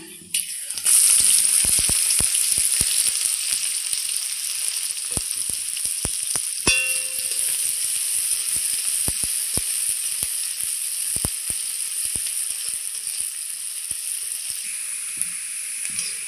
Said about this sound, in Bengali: পেঁয়াজ আর লঙ্কা ভালো করে ভেজে নেওয়া হয়ে গেছে